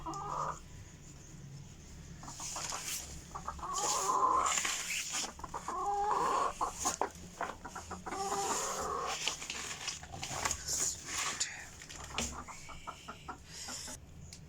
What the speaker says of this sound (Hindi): ये मेरी मुर्गियाँ आ गई